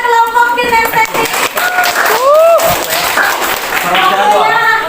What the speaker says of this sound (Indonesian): Tepuk tangan buat kelompok kinestetik.